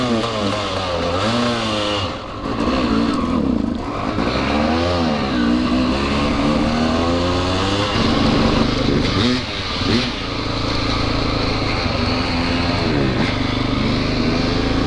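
A Honda XR400 dirt bike engine runs unevenly at idle, its note wavering and surging instead of settling, loud and close with a steady rough drone throughout.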